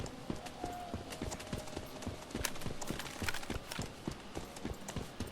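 Deer hooves run across the ground in the survival game Once Human, a steady series of quick, close clip-clop thuds carrying on throughout.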